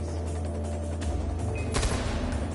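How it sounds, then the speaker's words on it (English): Bursts of gunfire in the video game Far Cry 4 during a fortress assault, quick crackling shots over a low background rumble, with a sharper volley near the end; fairly quiet overall. "Gunfire. Yeah, dead."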